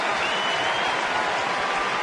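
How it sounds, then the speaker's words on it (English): A ballpark crowd applauds a pitcher at a 2010 Rangers–Yankees baseball game, a sustained, even wash of clapping from many hands filling the stadium without letup. "Deserves a nice round of applause."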